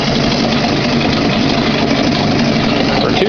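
A 1992 Yamaha 3hp two-stroke outboard motor runs at a steady idle, giving a fairly quiet, even buzzing drone with no change in pitch or level throughout.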